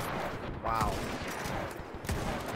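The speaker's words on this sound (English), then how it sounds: "Got freaking machine guns going" Machine gun fire and battle noise from the Mount & Blade Warband Parabellum mod, a rapid crackle of gunfire mixed with distant shots and a voice shouting over the din.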